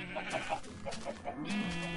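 Sheep in Minecraft bleat while being sheared: several short, wavering baa calls in quick succession at moderate volume over faint background game sounds.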